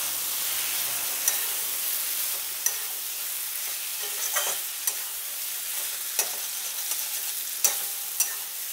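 Fried potatoes are stirred into spice masala in a pan for raw jackfruit kofta curry, giving a steady, close sizzle broken by sharp scrapes and clacks of the spoon every second or so, with no talking.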